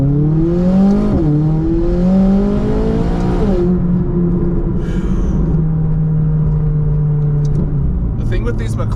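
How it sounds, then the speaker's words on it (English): An 800 horsepower McLaren engine held at low RPM rumbles steadily up close, its pitch rising and dipping slightly with light throttle before settling into a smooth drone, with a person talking over it. "I'm trying to keep the RPMs low while I'm talking to see if it'll work out"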